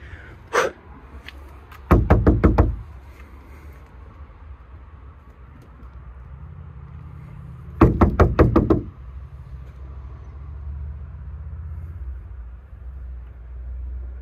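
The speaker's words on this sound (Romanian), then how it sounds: "Batem în ușă să vedem." Knocking on a truck or vehicle door: two bursts of about four rapid, loud knocks each, several seconds apart, over a low rumbling background with a faint earlier tap.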